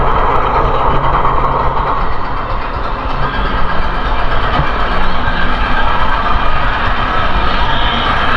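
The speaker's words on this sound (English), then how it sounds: "it was a really good little mine train coaster" Loud continuous rumble and clatter of a mine train roller coaster rolling along its track at PortAventura World, Spain, dense and unbroken throughout, with no voices standing out.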